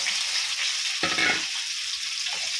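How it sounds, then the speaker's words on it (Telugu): Cauliflower pieces hit hot oil and fry with a bright hissing sizzle, a sharp burst of bubbling as they drop in, then settling to a steady crackle. "సో ఆయిల్ హీట్ అయిపోయింది కాబట్టి ఇప్పుడు నెక్స్ట్ గోబీ ఫ్రై చేద్దాం, స్టార్ట్ చేద్దాం"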